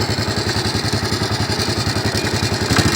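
A motorcycle idles close by with a fast, steady metallic rattle from a slack chain on a worn-out rubber chain guide running through the engine's chugging.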